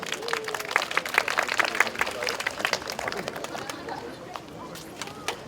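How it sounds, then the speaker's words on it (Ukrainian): Audience clapping at an award ceremony during the opening of Sustainable Energy Days in Sumy, dense and steady for a few seconds before thinning out, with chatter and a voice over it. "Даруйте оплески"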